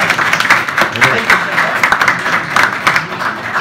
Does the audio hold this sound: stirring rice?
no